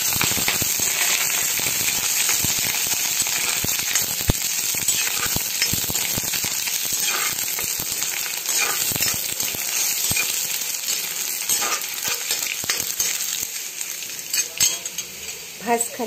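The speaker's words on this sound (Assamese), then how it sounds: "আদা নহৰুখিনি এতিয়া ইয়াতে অকণমান দি ভাজি ল'ম ভাল ধৰণে" Ginger and garlic frying in hot mustard oil in a kadai, a continuous bright sizzle with scattered sharp clinks and scrapes of a metal spoon stirring, no talking.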